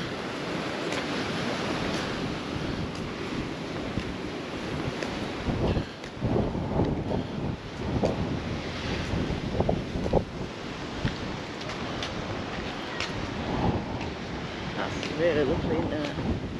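Waves and wind on the beach at Costa Teguise, Lanzarote: a continuous roar of surf with gusty wind buffeting the microphone throughout.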